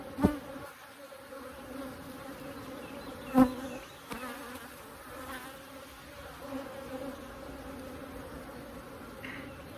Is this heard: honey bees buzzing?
yes